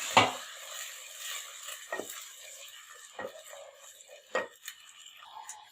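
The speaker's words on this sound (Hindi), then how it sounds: "अब हम इसमें मटर शामिल करेंगे, इनको भी हम अच्छे से भून लेंगे इसके अंदर।" Peas sautéing in a pan for aloo matar, a faint sizzle with occasional spoon scrapes and clinks against the pan at irregular intervals, close and fairly quiet, with no voices.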